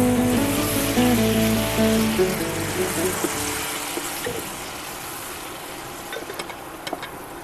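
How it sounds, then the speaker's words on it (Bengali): Water poured into a pan of frying spices for Aam Shol sets off a loud, broad sizzle that swells and hisses steadily. It follows a stretch of mixed kitchen noise, with a few sharp crackles near the end. "আমরা একটু জল এখানে দিয়ে দিচ্ছি সাঁতলানোর জন্য।"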